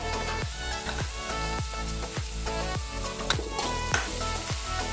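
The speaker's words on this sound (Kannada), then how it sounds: "ಇದನ್ನು ಕೆಂಪಾಗೋವರೆಗೂ ಫ್ರೈ ಮಾಡ್ತೀವಿ" Onion sizzles and fries loudly in a pan for pav bhaji, a steady crackling hiss with rhythmic scraping strokes of a spatula stirring every half second or so, close by and without speech.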